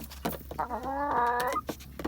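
Backyard egg-laying hens, newly delivered to a home coop, cluck and squawk in a loud burst of tonal fowl calls, close and clear over a low steady background hum.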